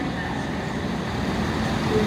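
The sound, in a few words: big truck pulling up and backing into parking spot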